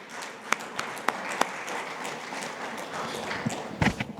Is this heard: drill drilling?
no